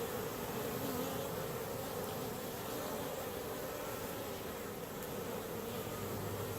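Dense, constant buzzing of many honey bees close by at a winter feeder, a steady droning swarm with no voices.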